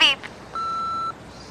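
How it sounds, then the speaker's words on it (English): An answering machine's voicemail beep, a single steady tone lasting about half a second, clean and clear after a brief burst of voice. "leave it at the beep"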